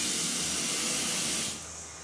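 Tap water pours into a pot used for steaming sweet potatoes in a home kitchen, a steady broadband rush that runs loud and close, then drops to a softer, thinner flow near the end.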